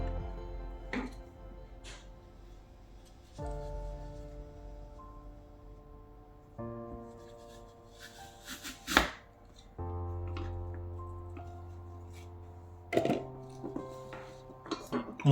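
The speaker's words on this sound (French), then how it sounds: "Ensuite, on va découper nos pommes en lamelles" Knife cutting apple quarters into thin slices on a board, a series of sharp chopping taps spaced irregularly over steady kitchen background, with occasional louder clicks, close and fairly quiet.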